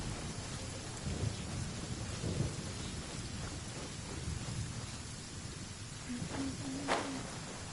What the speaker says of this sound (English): Sky's running out of rain for now.